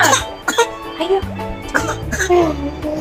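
A child with a cough coughs several times at close range in short, harsh bursts, with voices nearby.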